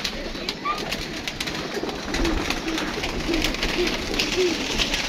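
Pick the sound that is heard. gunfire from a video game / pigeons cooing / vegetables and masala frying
pigeons cooing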